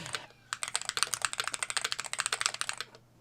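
Fast typing on a MCHOSE ACE 68 Turbo Hall Effect keyboard, a rapid run of crisp, close key clicks in an even burst lasting a few seconds. A brief pause follows the first couple of strokes.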